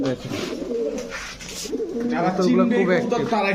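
Large-headed, old-breed pigeons coo in soft, repeated throaty calls close by, partly under someone talking.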